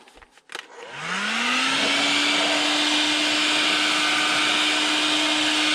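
After a few handling knocks, a heat gun starts up and ramps to a loud steady whirring roar with a rising motor tone, held close and constant while heating a glued PVC pipe fitting.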